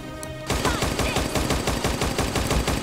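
Deadly barrage attack in the Hyper Universe video game, beginning after a short quiet lead-in as a loud, rapid, unbroken stream of automatic gunfire shots that continues to the end.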